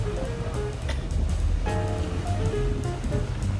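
Sea waves washing continuously at Jomtien Beach on the Gulf of Thailand, a steady broadband surf wash that stays loud and close throughout with no talk.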